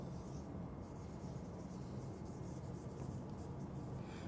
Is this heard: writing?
yes